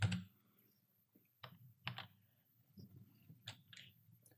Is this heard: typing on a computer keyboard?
yes